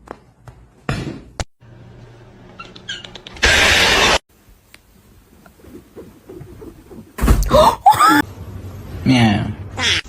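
A cat meows in a home a few times, with short rising-falling calls near the end, mixed with people talking and bursts of household noise.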